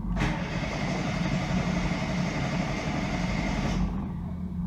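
A ZAZ Sens car engine cranks on the starter without catching, a loud, dense, continuous churning for nearly four seconds that cuts off abruptly, close-up with no talk.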